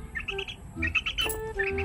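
A young chick chirps, giving repeated high, thin peeps in short bursts close by, with a brief squawk partway through; no speech.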